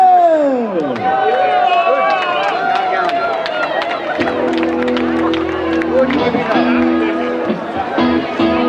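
A crowd at the Sülzer Carrée Fest 2022 applauds a carnival band. Steady clapping sits under a loud announcer's voice, and band music starts partway through.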